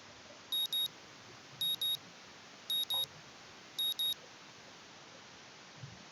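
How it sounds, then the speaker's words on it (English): A morning alarm clock going off in the Katawa Shoujo visual novel: four evenly spaced pairs of high electronic beeps, clear and close, over a faint steady hiss. "My morning alarm goes off"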